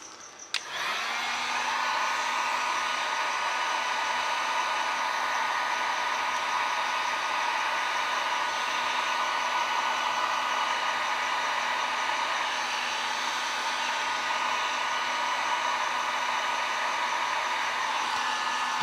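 A hair dryer switches on and blows a steady, loud whirring stream of hot air onto a 12V 100Ah LiFePO4 battery, running continuously with a constant motor whine and no talking.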